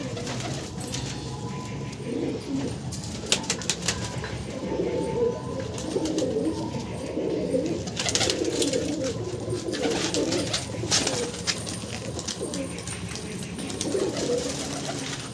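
Roller pigeons coo steadily in throaty, overlapping calls throughout, at moderate volume over a constant outdoor background hiss.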